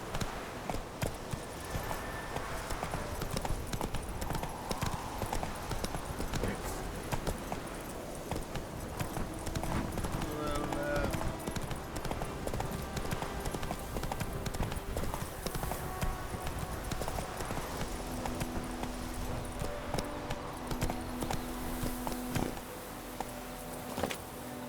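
Hooves of a horse galloping in The Witcher 3, a fast continuous clip-clop that runs throughout alongside game music and ambience, with a brief voice heard early on.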